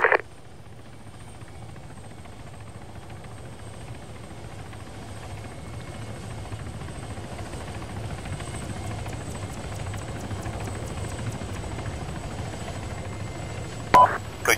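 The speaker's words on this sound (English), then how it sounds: "Helicopter inbound from the north, 10 seconds." A helicopter approaches during a parachute-jump training session, its steady low rotor and engine drone building gradually and holding throughout, with a brief louder burst near the end.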